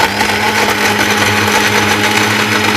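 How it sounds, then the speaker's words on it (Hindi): A blender whirs steadily and loudly throughout, mixing a mint margarita, a mint lemonade drink, with no talk over the motor's even drone. "और अब हम इसको अच्छे से फिर ब्लेंडर चलाकर मिक्स कर लेंगे।"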